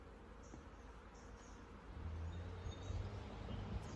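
Honeybees hum at an open hive during a honey harvest, a faint, steady buzzing drone that grows a little louder partway through, with no talking.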